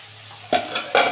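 Pabda fish frying in a pan of oil just after being flipped, giving a steady close sizzle with two louder bursts of crackling spatter as the fish settles.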